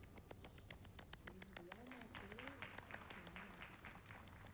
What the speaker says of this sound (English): Thank you for the claps, I appreciate it.